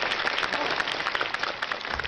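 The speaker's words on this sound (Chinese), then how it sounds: "我们应该掌声感谢一下王彤他精彩的表现" A studio audience at a comedy show applauds, dense, steady clapping filling the space at moderate loudness.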